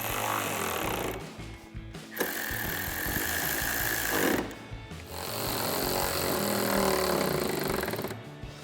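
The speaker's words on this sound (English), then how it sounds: "tighten down our lights using our 10mm socket and our" A 10mm and 13mm socket tightening the mounting bolts of Raxiom LED projector headlights on a 2018-2023 Mustang, heard as a loud, continuous close whirring and rattling in three long runs separated by short pauses.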